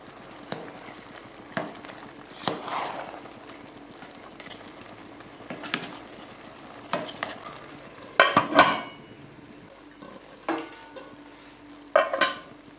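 A ladle stirs chicken rice in a cooking pot with repeated scraping strokes over a low sizzle and simmer, the strokes coming in irregular bursts, loudest near the middle and end.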